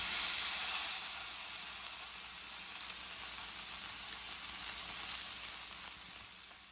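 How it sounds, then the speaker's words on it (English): The fat side of a NY strip steak sears in a hot pan, giving a steady, close, broad sizzle and hiss that starts loudest and settles into a constant frying crackle. "we're going to put this fat side down to render out some of the fat. It should sound exactly like this."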